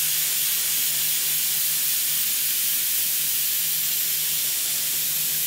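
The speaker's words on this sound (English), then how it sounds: "So what we're gonna do is just going to spray as I would normally." An airbrush or spray can sprays paint over masking tape on a model, giving a continuous close, loud hiss with a faint low hum beneath and no pauses or talk.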